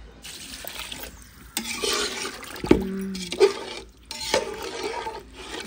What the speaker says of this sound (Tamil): 3 படி தண்ணி வந்து சேர்த்துக்கிறேன்